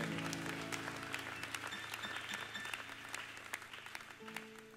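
A church congregation applauds the men in attendance during a French-language service, a dense, steady wash of clapping that holds across the whole moment at moderate, roomy volume, with faint sustained tones underneath.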